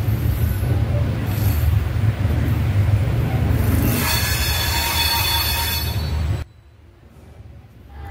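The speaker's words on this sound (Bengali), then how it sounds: "তো ফ্রেন্ডস আমাদের ট্রেন ছেড়ে দিয়েছে" Sainagar–Howrah Superfast Express 22893 pulling away from Sainagar station, its wheels squealing loudly and steadily over rumbling carriages for about six seconds before the noise abruptly drops to a low hum.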